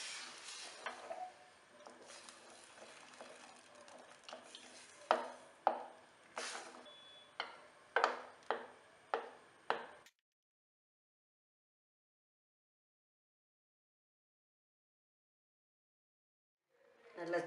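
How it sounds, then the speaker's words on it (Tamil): Cooked nendran banana being mashed for payasam, a series of soft, sharp thuds and scrapes of a utensil against the vessel, repeating every second or so, up close with nobody talking, then silence and a brief noise at the end. "நல்லா சூடாக இருக்கும்போதே இப்படி நல்லா மேஷ் பண்ணிட்டுருக்காங்க"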